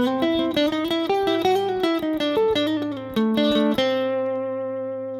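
A clean guitar lick mixing pentatonic and harmonic minor phrases, a fast run of distinct plucked notes played alone up close, with the last note ringing out and fading.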